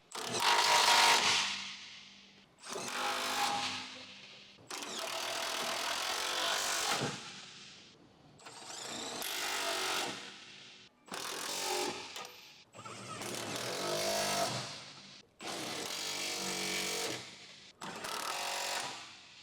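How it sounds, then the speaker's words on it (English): An electric impact wrench with an 18mm deep socket and extension bar hammers Jeep Wrangler JK fuel tank mounting bolts in eight separate loud, rattling bursts, each lasting a second or two with short pauses between, close up and alone. "Using the 18mm deep socket with the electric impact wrench and extension bar, tighten the fuel tank mounting bolts one by one."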